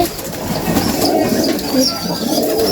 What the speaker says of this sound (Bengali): কালো কালো কবুতর টাকা বাচ্চাকে খাওয়াইতেছে